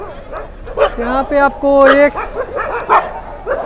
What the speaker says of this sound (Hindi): बहुत सारे कुत्ते भी हैं जो भौंक रहे हैं।